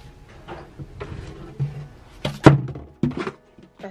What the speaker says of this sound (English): I just dropped it